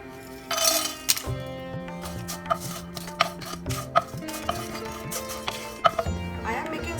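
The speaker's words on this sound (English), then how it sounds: "We will dry roast all the spices for 2-3 minutes only." Whole spices, including white peppercorns, dry-roast in a pan over low to medium flame for shahi masala, with light clinks, rattles and scrapes of stirring beneath a person talking.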